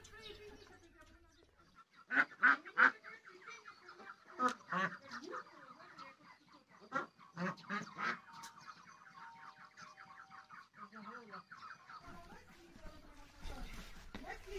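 Ducks quack in scattered bursts at a moderate distance, with people talking over them now and then in an outdoor yard.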